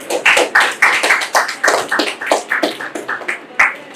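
Medical students in an MBBS lecture hall clap together for a classmate, giving a steady burst of close, bright, overlapping claps that carries on evenly without speech.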